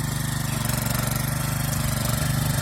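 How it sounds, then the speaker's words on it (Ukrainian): A tractor engine runs steadily nearby while plowing a garden plot, a low throbbing idle-like chug that stays constant without pauses or talk. "О, вже чоловік завів трактор."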